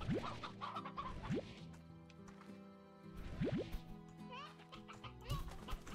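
Cartoonish chicken clucks from the video game Slime Rancher, a few short chirpy calls popping up over game music and watery dripping effects, with a person talking intermittently throughout.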